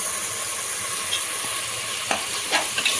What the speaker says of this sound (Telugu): హైలోని పెట్టి నేను ఫ్రై చేస్తున్నాను కూడా